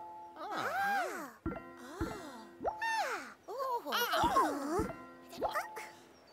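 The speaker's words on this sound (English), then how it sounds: "One day in Teletubby Land, there was a ringing sound." The Tubby phone in Teletubby Land rings out as playful, warbling electronic tones in bouncing, gliding bursts, with short thumps between them, over several seconds.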